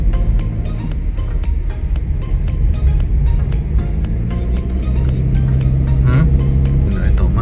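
An SUV engine labors up a steep old zigzag road at night, a loud, steady drone with rising revs and a faint whine, the car's interior hum constant throughout.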